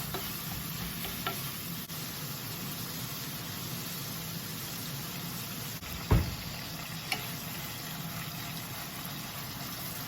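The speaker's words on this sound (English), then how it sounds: "So we're gonna get this nice and brown." Ground beef browning in a pan gives off a steady, faint sizzle throughout, with a single brief clunk partway through and no voices.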